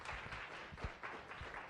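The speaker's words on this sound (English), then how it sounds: "Let's give him one more round of applause." Applause from an audience at a science cafe discussion, a faint, distant spread of clapping with a few sharper individual claps standing out.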